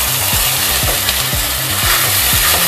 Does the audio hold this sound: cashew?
yes